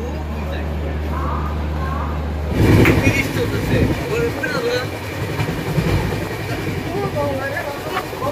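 A moving train running from Bhubaneswar toward Puri, with a steady low rumble that swells into louder rattling and clatter partway through, heard from inside the carriage alongside background voices.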